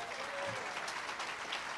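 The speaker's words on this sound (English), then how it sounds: "I would like us just to real quick give a round of applause to Joe Dugan" Audience applause at a Tea Party convention, a short burst of steady clapping from a crowd filling the room, with a voice briefly audible over it.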